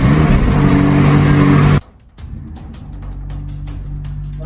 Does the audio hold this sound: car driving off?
yes